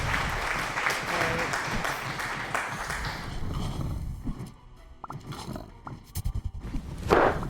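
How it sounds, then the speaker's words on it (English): Applause sound effect played on a live stream, a dense burst of clapping and cheering for several seconds that fades out into scattered sounds at the end. "That's crazy that you did the applause yourself, Legacy!"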